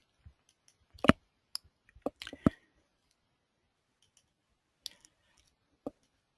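Computer mouse clicks come in a few sharp, quiet bursts separated by silence, with one quick cluster of several clicks. The sound is close and no one speaks.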